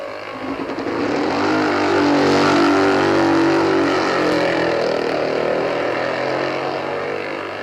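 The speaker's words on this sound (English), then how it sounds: "This bulbous-looking machine is an Italian Guzzi" Italian Moto Guzzi racing motorcycle ridden by Bob Foster at the 1950 Isle of Man TT, an engine droning loud and steady as it passes, swelling then slowly fading.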